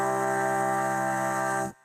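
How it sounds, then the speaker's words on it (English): Vocal processed through iZotope Vocalsynth 2 with a filter rolling off the highs: a steady, dense sustained synthetic tone with stacked harmonics, held evenly and then cut off abruptly near the end. "I am using a nice filter just to roll off the highs."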